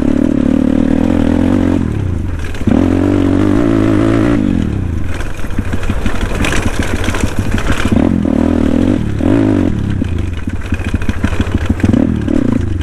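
A scooter engine strains over rough off-road ground, its motor droning and revving with rattling clatter and scraping as the ride bumps along, loud and close throughout.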